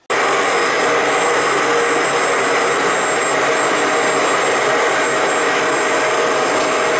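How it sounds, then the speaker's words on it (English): A Bissell ProHeat 2X Revolution Pet Pro carpet cleaner's clean shot sprays a jet of cleaning fluid, a loud, steady hissing roar that starts abruptly and holds constant, with no talking. "It just directs a jet of cleaning fluid out."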